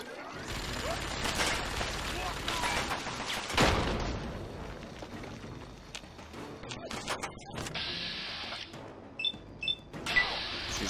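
Grenade blasts and combat noise in Fallout 3, a busy, muffled mix of booms and clatter at moderate level, with a few sharp bursts near the end and a voice talking now and then.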